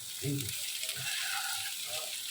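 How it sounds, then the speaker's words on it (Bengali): Carrots frying in a pan while being stirred, a soft steady sizzle with a few low scraping strokes, close and fairly quiet, with no talk. "গাজরটা দিয়ে একটু গাছটা একটু ভালোভাবে নাড়াচাড়া করে"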